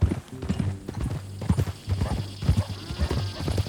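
A horse's hooves clip-clop in a steady walking rhythm in the video game Red Dead Redemption 2, close and distinct over quiet ambience.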